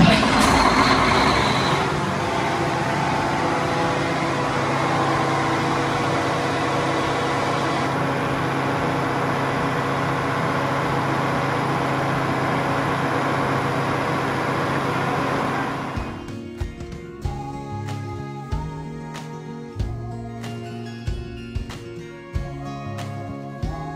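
Emergency generator engine started hydraulically, running as a loud, steady mechanical drone with a rising whine, then cutting to quieter clattering and irregular knocks near the end.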